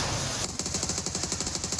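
Rapid burst of automatic gunfire in a battle royale esports match, a dense stuttering rattle of evenly spaced shots that starts abruptly and runs loud and close for over a second.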